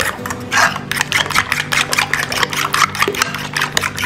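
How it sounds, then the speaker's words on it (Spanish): Shrimp seasoned with pepper and garlic salt being stirred in a bowl, rapid scraping and rubbing strokes in a steady repeating rhythm, close and moderately loud with no talk. "Y vamos a revolver."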